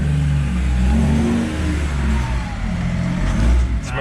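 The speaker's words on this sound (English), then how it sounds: "It's making cool turbo sounds though." A Toyota FJ75 Troopcarrier fitted with a 300hp M57 engine accelerates on its first drive, its loud, steady in-cabin engine drone carrying audible turbo whine.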